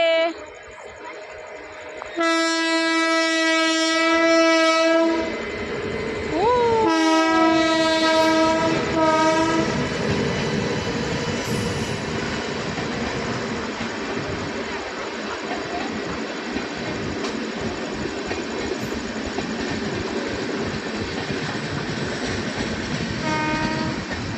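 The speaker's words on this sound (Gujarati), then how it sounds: "ફાઇનલી ટ્રેન હવે નીકળી ગઈ છે" A train horn blasts in long, loud tones at a village level crossing, then the rumble and rhythmic clatter of the passing train carry on steadily for a long stretch.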